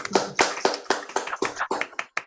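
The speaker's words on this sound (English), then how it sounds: "give a round of applause to our speakers, if you can unmute" Scattered handclaps from a few people on an online presentation call, unmuted microphones picking up irregular close claps for a couple of seconds.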